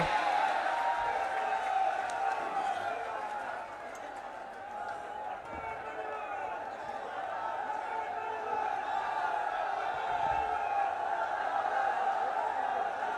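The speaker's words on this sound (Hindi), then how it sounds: "एक बार पुनः जोरदार तालियां बजा करके स्वागत कीजिए।" Crowd applause at an outdoor political rally, welcoming speaker Hanuman Beniwal, a steady dense roar of clapping and cheering that holds for the whole stretch with slight dips.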